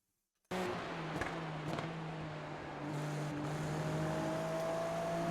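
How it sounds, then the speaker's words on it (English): Race car engine at track speed, a steady, loud droning hum that rises slightly partway through, with no talking. "Can you hear the sound of the engine?"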